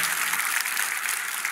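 Church congregation applauding during a Sunday joint worship service in Gwanghwamun, a steady, dense wash of clapping filling the whole moment without any speech over it.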